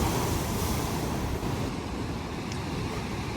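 Crashing ocean waves off a rocky Madeira coastline near a natural pool, a loud, dense, continuous roar of surf with wind buffeting the microphone.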